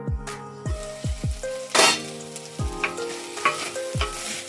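Onions, carrots and potatoes sauté in a pot for Kerala-style beef stew, giving a steady close sizzle broken by several sharp clinks and scrapes of stirring against the pot.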